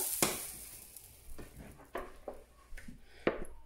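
Crepes frying in a buttered pan, a low sizzle close by broken by a few sharper spatters and scrapes as the pan is handled.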